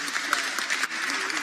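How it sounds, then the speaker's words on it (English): A school board forum audience gives a short burst of applause for the co-moderator, a dense, even patter of many hands at moderate volume with faint voices mixed in. "another round of applause to my co-moderator, Sanaya"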